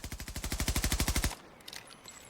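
An LWRC SMG-45 submachine gun in Battlefield 2042 fires a rapid, evenly spaced burst of about fifteen loud, close shots, then stops abruptly, leaving quiet ambience with faint clicks.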